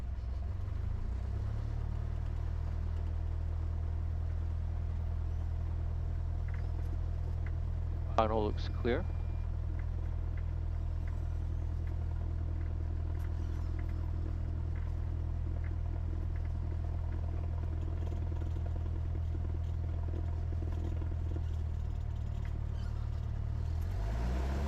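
A small plane's engine drones steadily from inside the cockpit at Palo Alto airport as takeoff begins, a constant low hum throughout, with a brief spoken voice partway through.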